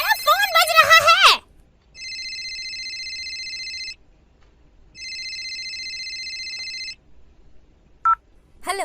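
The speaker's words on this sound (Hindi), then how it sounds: "तुम्हारा फोन बज रहा है।" Two long electronic phone rings sound clearly in a quiet room, separated by a pause, after a brief burst of other sound and followed by short beeps.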